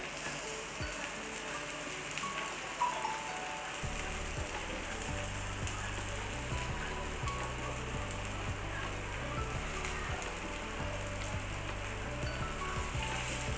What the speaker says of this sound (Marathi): भरपूर असं तेल टाकायचं मस्त भाजलं जातं